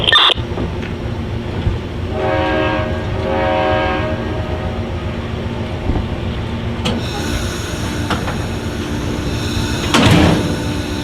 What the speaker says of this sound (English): the Amtrak 49 sounds the horn as it departs BRYAN, Ohio